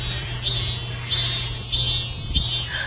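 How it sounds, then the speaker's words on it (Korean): A cicada sings in summer, its steady shrill drone pulsing in regular surges about every half second under a constant high buzz, loud and close. "매미 소리 한번 들어볼까요?"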